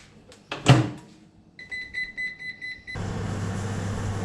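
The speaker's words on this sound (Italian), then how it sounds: "Andiamo a mettere nel microonde." A door clunks shut, a few electronic beeps follow, then a steady low mechanical hum starts up as a microwave oven runs, cooking grape jam.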